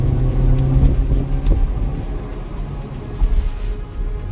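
A 2023 Maruti Suzuki Baleno Alpha with an AGS automated gearbox is heard from inside as it drives and shifts up and down, giving a steady low engine and road rumble with slight dips at the gear changes.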